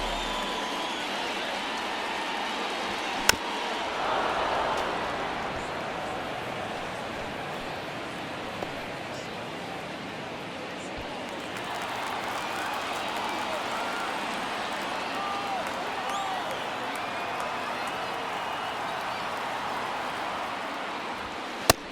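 Steady home crowd noise fills a stadium during an MLB The Show baseball game, Arizona at the LA Angels of Anaheim, a continuous broad roar with a swell of cheering partway through and a brief sharp crack near the start.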